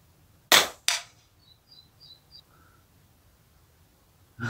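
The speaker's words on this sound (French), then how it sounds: "Alors, je tire encore un plomb pour être bien sûr." A Zoraki Ultra air pistol fires a flat-head pellet outdoors: one sharp, loud crack, a second close snap, then faint chirps and near silence before another hit at the end.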